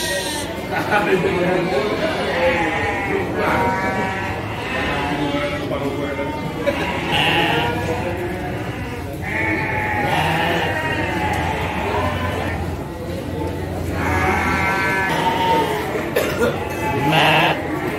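Sheep bleat repeatedly at a crowded livestock market in Garut, rams and ewes for sale, with loud overlapping calls over a constant crowd murmur and people talking nearby.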